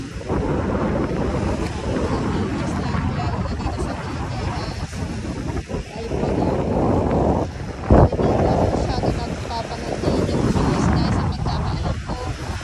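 Strong surf and gusting wind at Dolomite Beach on Manila Bay roar continuously, with heavy broadband rumble and wind buffeting the microphone, and a brief louder gust near the middle.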